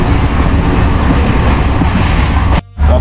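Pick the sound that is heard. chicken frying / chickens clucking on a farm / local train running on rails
local train running on rails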